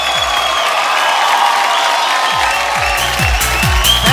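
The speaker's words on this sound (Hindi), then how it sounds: "खड़े होकर ताली बजा के बताओ एक बार, खड़े होकर सभी लोग" A standing audience at a mentor event claps and cheers in a hall, with dense, steady applause and crowd noise throughout.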